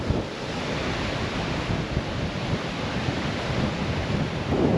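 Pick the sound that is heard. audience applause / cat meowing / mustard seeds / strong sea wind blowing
strong sea wind blowing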